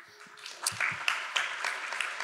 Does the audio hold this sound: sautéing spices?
no